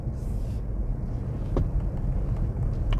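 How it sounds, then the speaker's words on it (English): Low, steady road rumble inside the cab of a Ford Ranger Raptor pickup cruising at about 25 mph, a quiet continuous hum with a couple of faint knocks and no talk over it. "Yeah, there is a bit of road noise"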